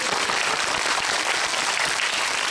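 Dense, continuous audience applause filling a Megabox cinema at a film screening Q&A for Hunt, loud and even from start to finish.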